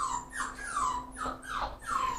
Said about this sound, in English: so for Mother's Day, I got my mom a puppy.